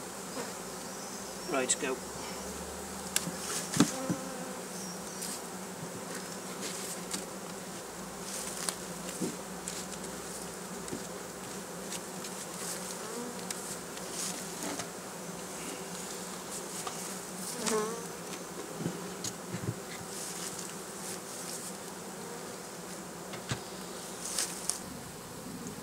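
A honeybee swarm buzzes around a newly set up backyard hive in a suburban garden, a dense continuous hum with close bees darting past, and a brief spoken word at the start.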